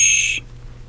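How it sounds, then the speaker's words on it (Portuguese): A single short, shrill whistle blast used to get a child's attention, cut off sharply after under half a second and followed by quiet. "Também podemos usar apito."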